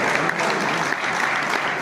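Traders at a BJP business gathering in Dhamtari applaud loudly to welcome a state minister, a dense, continuous burst of clapping close and full.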